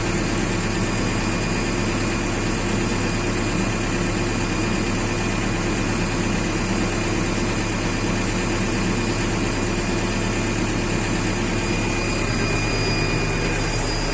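New Holland backhoe loader engine running continuously at a steady, loud drone with a constant hum and whine, close by and uninterrupted. The machine is said to bog down under load, likely from a diesel pump fault.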